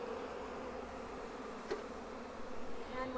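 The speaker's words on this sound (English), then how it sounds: "one bee was just getting a bit agitated there" Honey bees buzz around an open Flow Hive during a brood inspection, a soft, steady, close hum of many wings with one brief louder pass.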